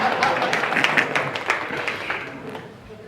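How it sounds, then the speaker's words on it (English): A seated audience claps hands at a business talk, steady mid-level applause with individual claps standing out, a moderately sized room crowd heard close and continuous. "You're allowed to clap hands."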